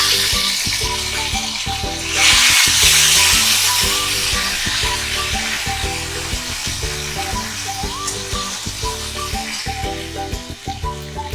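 Ginger paste drops into a hot frying pan of lightly browned oil for a Bengali spinach and mixed vegetable dish, with a sharp surge of loud sizzling around two seconds. The steady crackle then continues over a rhythmic musical backing.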